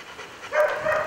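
A shepherd police service dog gives a single short bark, fairly close but not loud, after a moment of quiet room tone.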